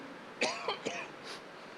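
A few sharp coughs in quick succession, fairly close, followed by a softer breathy rasp, with a steady background hiss.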